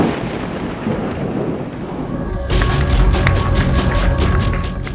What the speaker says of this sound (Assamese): ধুমুহা বৰষুণ